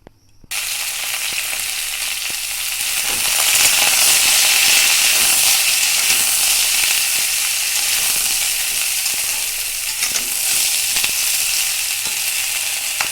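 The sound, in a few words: taro stolons (kochur loti) frying in hot oil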